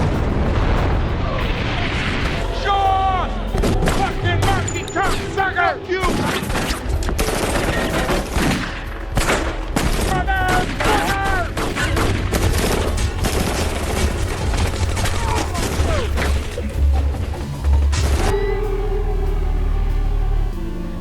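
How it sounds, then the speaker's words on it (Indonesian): A film shootout between drug dealers and special forces, with rapid bursts of automatic gunfire and loud explosive booms layered over a dense rumbling action soundtrack throughout. "Dan terjadilah baku tembak antara bandar narkoba dan pasukan khusus."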